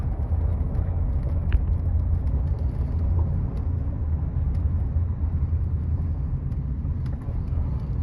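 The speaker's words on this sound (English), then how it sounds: "here comes a car. Oh no, it's an SUV type deal" An SUV rolls past on a mountain road in the Alberta Rockies, a steady low rumble of engine and tires heard from inside a moving vehicle, fairly loud and even throughout with no talking.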